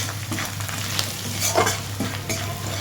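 Turmeric, coriander and cumin powder fry in hot oil while being stirred, a steady close sizzle with continuous scraping strokes throughout and no voices.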